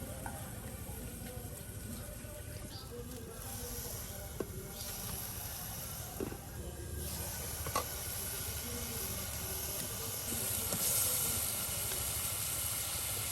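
Fish and spices braise in a covered pan in a rural Bengali kitchen, giving a steady, moderately loud hiss and low simmering rumble that runs throughout, with faint clicks and occasional soft bumps.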